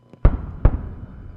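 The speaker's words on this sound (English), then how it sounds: "with those twin sonic booms that they always hear at the Kennedy Space Center when an orbiter is coming home" Twin sonic booms from Space Shuttle Atlantis returning to the Kennedy Space Center: two sharp, deep thumps about 0.4 seconds apart, each with a rumbling low tail fading in the distance.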